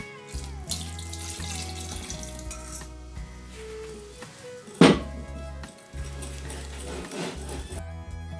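Milk is poured in two goes onto canelé batter, a steady liquid trickle into a bowl with a brief clink against the dish midway, close and clear.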